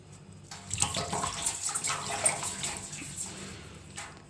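Water splashing and running in a shallow bath as a bearded dragon is gently lowered in and wetted, a soft continuous wash of small splashes at close range with no talking.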